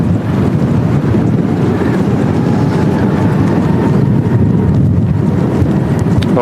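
Strong crosswind during Storm Claudio at Manchester Airport roars and buffets the microphone in a loud, continuous low rumble with no letup.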